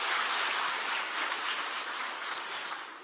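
An audience at a New Year greeting ceremony claps steadily, a dense, even wash of applause filling the hall from start to finish before tapering slightly at the end.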